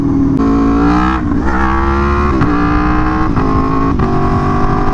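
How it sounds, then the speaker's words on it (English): An Aprilia Tuono V4 motorcycle revs hard in second gear for a clutch-up wheelie, its engine note loud and close, climbing and dipping through several sharp throttle surges with no talk over it. "my attempt at a clutch up wheelie in second gear with each of these different wheelie control settings"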